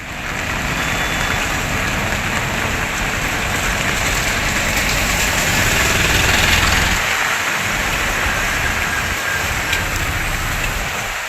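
A steady, dense roar of heavy summer rain on the waterlogged new bridge at Vandiperiyar, Kerala, fills the whole stretch, loud and continuous, with a low rumble underneath.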